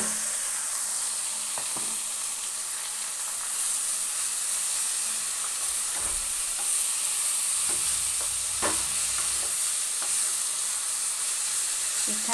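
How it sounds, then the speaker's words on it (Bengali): Grated papaya, potato and green chillies frying in a spice tempering, a steady close sizzle with occasional scraping stirs and light clatter, no voices. "ফোড়নটার মধ্যে এবার আমি দিয়ে দেব এই গ্রেট করে রাখা পেঁপে, আলু আর কাঁচা লঙ্কাগুলোকে"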